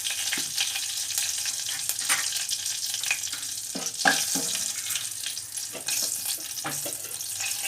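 Turmeric, salt and chili powder fry in hot oil in a pot, giving a close crackling sizzle with scattered sharp spits and stirring scrapes, with no voices.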